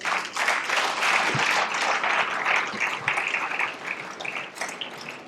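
Audience applause at a workers' political rally, a dense, steady wash of clapping that holds loud for about five seconds with no talk over it.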